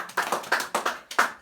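A church congregation claps for Jesus, a steady series of sharp handclaps at a quick, even rhythm, fairly close and with no voices over them.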